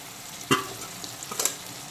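Fried pointed gourd is stirred with fried potatoes and cooked-down spices in a pan. Two quick scraping strokes of the spoon stand out over a soft, constant sizzle, with no voices.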